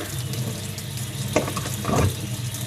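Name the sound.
cold water tap running into sink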